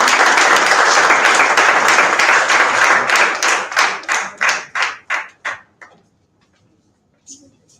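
An indoor audience at a culture-exchange presentation claps loudly and densely for a presenting team, then thins into a few separate claps that fade out into near silence, followed by one faint sound.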